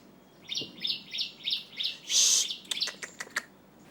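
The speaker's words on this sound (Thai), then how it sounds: "ถามใหม่ถามใหม่เสียงนกคอนแทรก" A bird calls nearby, a run of quick repeated chirps followed by a louder trill and a few sharp tweets, over faint background noise.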